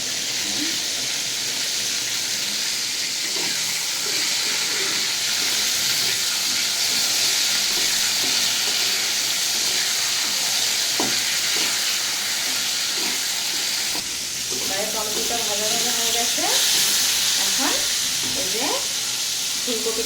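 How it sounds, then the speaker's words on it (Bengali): Cauliflower curry frying in a pan, giving a loud, continuous sizzle and hiss with occasional stirring scrapes and a few brief high chirps in the later part. "এদিকে আমার ফুলকপির তরকারি হচ্ছে"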